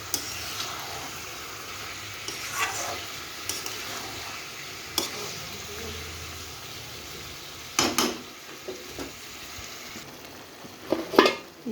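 Koi fish curry sizzles steadily as it is stir-fried in a pot, a low continuous frying hiss broken by occasional sharp clinks and scrapes of the stirring spoon.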